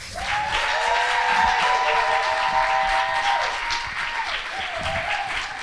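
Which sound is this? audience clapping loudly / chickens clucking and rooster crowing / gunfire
audience clapping loudly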